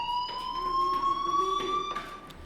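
A fire alarm in the video game Life is Strange Remastered rings as a steady, piercing electronic tone with pulsing bursts, moderately loud and continuous throughout.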